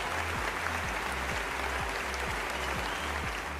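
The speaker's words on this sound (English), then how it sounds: "that deserves a huge round of applause" Audience applause at an evening awards ceremony honouring contributors to women's cricket: soft, distant clapping spread evenly throughout, with a faint low rhythmic thump pulsing steadily underneath.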